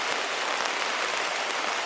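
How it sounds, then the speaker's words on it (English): Rain falls steadily on a cold day, a dense, even hiss of drops close by with no break and no voices. "it's raining on me right now"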